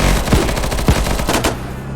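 Loud bursts of automatic gunfire in Unturned roleplay, several fast shots with heavier thumps standing out, close and dominant with no talking.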